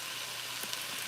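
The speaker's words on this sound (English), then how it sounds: "So you hear that sizzle?" Italian sausage sizzles in a soup pot, a soft, steady frying hiss with a couple of faint pops, heard alone and fairly quiet.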